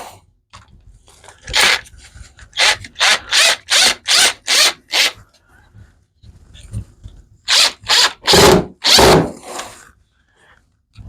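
A power drill drives screws into a wooden flag, with bursts of whirring and ratcheting in two clusters, the drill stopping and starting in short regular pulses, loud and close.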